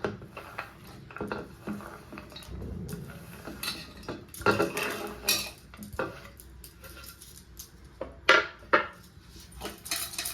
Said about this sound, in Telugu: కట్ చేసిన పనస గింజలు కుక్కర్లో వేసుకుందాం.